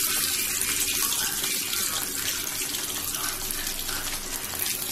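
Fish dropped into well-heated cooking oil for a Tamil-style fish fry gives a steady, loud, close sizzle and hiss that runs the whole time with no talking.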